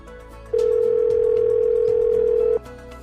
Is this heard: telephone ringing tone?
yes